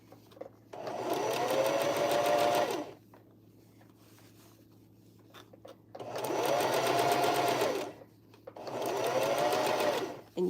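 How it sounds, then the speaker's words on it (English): A sewing machine stitches a bucket hat in three rapid whirring runs with quiet pauses between them, sounding close and clear. "Circular sewing is, you know, it's not always terribly easy for everybody."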